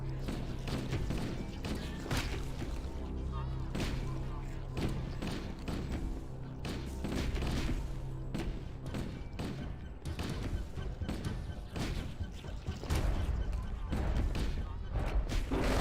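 Rapid gunfire in the video game Halo: Combat Evolved, with dense, continuous bursts of shots and impacts running throughout at a steady, loud level.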